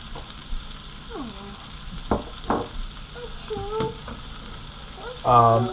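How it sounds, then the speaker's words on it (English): A stuffed venison loin sears in a pan with a low, steady sizzle, and a few sharp knocks and taps of a utensil are heard along with faint voices in the background. "I'll check back with you once this is all seared up and ready to go in the oven"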